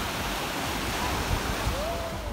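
Strong sea waves break along the shore at Lobo, Batangas, a continuous rushing surf roar with some wind noise, steady and fairly close, with no talking.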